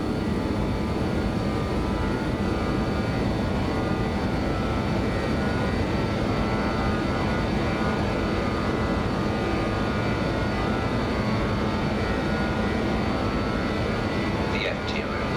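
BAe146 jet engines at climb power in a flight simulator, a loud, constant droning roar with steady whining tones that fills the cockpit without break, while voices are faintly present.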